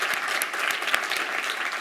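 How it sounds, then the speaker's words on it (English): A conference audience at DevRelCon London claps for the organizers, an even spread of many hands with a few sharper claps standing out, moderately loud and continuous. "So I would actually like to start by giving a round of applause to all the organizers of DevRelCon London, Carla"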